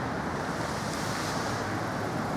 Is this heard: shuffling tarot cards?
no